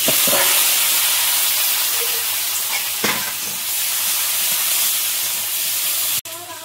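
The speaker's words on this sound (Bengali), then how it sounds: "কড়াইয়ে তেল দিয়েছি, একটু 5 ফোড়ন তেলে দেবো, আর পেঁয়াজ কুচি আর রসুন কুচি।" Chopped onion and garlic sizzle loudly in hot oil in a kadai with five-spice seeds, with occasional stirring scrapes, a continuous close frying hiss, and a voice starts just at the end.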